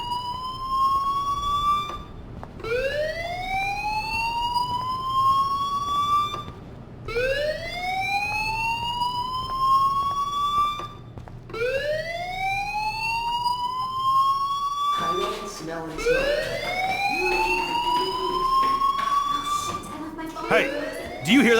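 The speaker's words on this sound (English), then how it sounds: "Hey, do you hear that fire alarm?" A fire alarm in the video game Life is Strange wails in repeated rising sweeps, each climbing whoop lasting a few seconds before restarting, loud and continuous, with a second overlapping siren layer joining toward the end.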